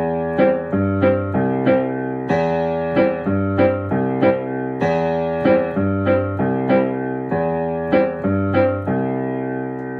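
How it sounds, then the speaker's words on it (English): A New Orleans rhumba piano groove, with steady low left-hand notes and single bright right-hand chord pops falling between them, played in a bouncy, syncopated rhythm, loud and close. "you could play single chord pops between each left hand note"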